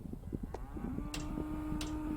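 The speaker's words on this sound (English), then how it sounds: "Cows are out eating all the wheat." Cattle low in the open, with one long, steady moo rising out of quiet rustling and faint background noise, and a few softer sounds scattered around it.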